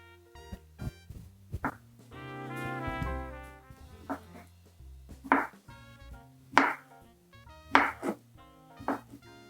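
A knife chops sausages into rounds on a cutting surface in a home kitchen, giving sharp, close, irregular chops separated by quiet gaps, with a brief tonal sound partway through.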